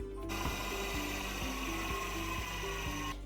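A stand mixer beats pistachio sponge batter of condensed milk, eggs and dry ingredients in its bowl, a steady loud motorised whir with a regular rhythmic knocking, starting and stopping abruptly.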